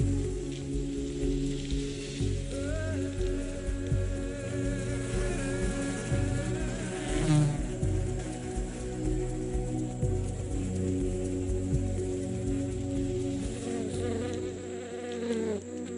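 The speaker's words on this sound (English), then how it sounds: "Those little green things are actually bees" Bees in a plant-science setting, a continuous dense buzzing with wavering pitches from several insects flying close by, steady and fairly loud throughout with no talking.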